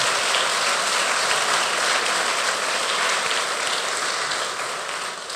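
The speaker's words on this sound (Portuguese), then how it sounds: "vamos dar um aplauso para o Senhor Jesus nessa..." A church congregation applauding, a dense and steady wash of clapping from many hands that carries on without a break and eases slightly toward the end.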